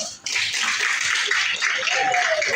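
Applause fills a classroom, a dense, continuous patter of many hands that starts abruptly after a brief voice and carries on, with a faint voice faintly audible near the end.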